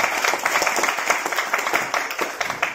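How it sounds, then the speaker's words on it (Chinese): Hands clap together in a dense, continuous burst of applause from a meeting crowd, approving the work plan at the founding of an army vocational school alumni association in Taitung. The clapping stays steady and fairly close for about three seconds. "没有意见，鼓掌通过"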